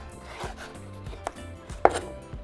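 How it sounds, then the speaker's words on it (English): Faint, irregular knife taps on a cutting board as a potato is sliced into small strips, a few soft chops spaced apart, quiet and close. "To cut your potato into small strips"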